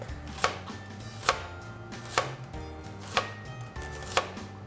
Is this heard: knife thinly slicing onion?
yes